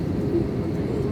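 Steady, loud low-pitched roar of an airliner cabin on an RNA flight from Kathmandu to Bangalore during severe turbulence; the engine and airflow drone is continuous, with no distinct bumps or jolts standing out.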